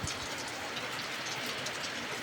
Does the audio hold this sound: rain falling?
yes